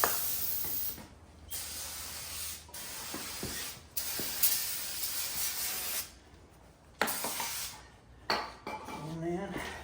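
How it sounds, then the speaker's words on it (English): Parts cleaner hisses from an aerosol can in several separate bursts onto motorcycle parts, with clinks of metal handling and pauses in between. "All right, got parts cleaner. Spray all these down."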